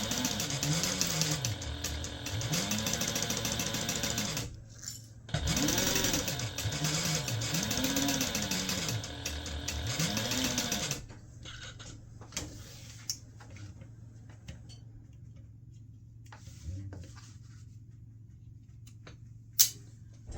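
A home sewing machine runs in rhythmic motor bursts while stitching a large fabric gift bag seam at a half-inch allowance, steady and close for about eleven seconds, then stops, leaving a quiet room with a few faint clicks and handling sounds.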